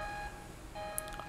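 An alarm sounds in the video game The Maw as repeated electronic beeping tones, a short steady pulse, briefly pausing and then resuming, with a small click near the end; no one talks over it.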